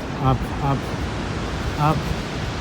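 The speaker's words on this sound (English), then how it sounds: "There were a couple of massive waterfalls to our left." A steady broadband roar of massive waterfalls on a mountain trek to Kailash fills the clip, heavy and continuous, with a few faint voice-like murmurs under the rushing water.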